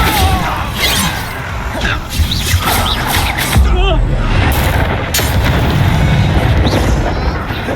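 A Bombarda blast spell explodes in the Hogwarts Legacy video game, a loud booming burst with shattering crashes amid dense, continuous combat noise and game voices.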